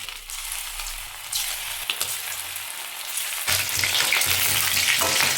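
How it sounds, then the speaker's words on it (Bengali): Chicken pieces frying in hot oil in a wok for restaurant-style chili chicken, a steady close crackling sizzle that swells louder partway through as more pieces go in, with no talk. "তেল গরম হয়ে গেছে, এবার আমি একটা একটা করে চিকেন দিয়ে দেবো"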